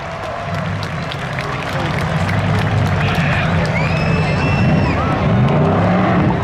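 Spectators at a Memorial Day spectator drag race show cheer and applaud for three finalists, a dense crowd roar that builds over several seconds amid engine rumble, with an announcer's voice talking over it.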